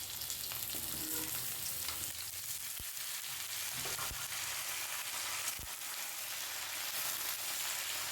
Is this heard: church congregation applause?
no